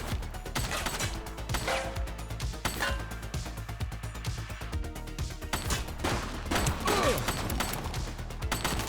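Gunfire in The Precinct, a police video game, comes as dense rapid bursts layered over a loud, busy game soundscape of crashes and mechanical noise, continuous throughout with no speech.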